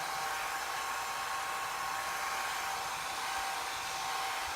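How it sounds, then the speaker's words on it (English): A hair dryer blows steadily and loudly throughout, a constant whooshing hum with a high whine, with no voices. "So just a basic hair dryer, nothing fancy."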